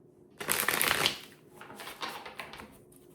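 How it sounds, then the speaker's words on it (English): Close, crisp riffle of tarot cards being shuffled, a long papery burst followed by a few softer shuffles. "And while we're shuffling"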